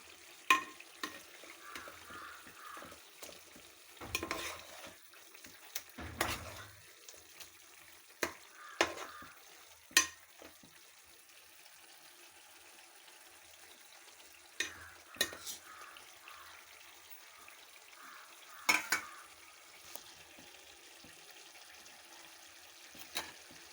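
Pieces of food frying in a pan with salt and chili, a steady quiet sizzle broken by scattered scraping stirs and clinks at irregular intervals.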